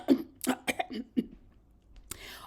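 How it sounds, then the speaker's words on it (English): Several short, low throaty rasps close by, irregularly spaced, like someone repeatedly clearing their throat, then a brief rustle. "she gets that little throat thing going on. She clearing her throat."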